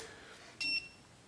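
A Klein NCVT-3P non-contact voltage tester gives one short, high electronic beep, a single brief tone at low level over quiet room background.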